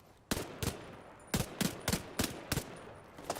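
Video game gunfire: sharp, loud single shots and short doubled bursts fired in an irregular rhythm, about a dozen reports spaced with brief pauses over quiet background.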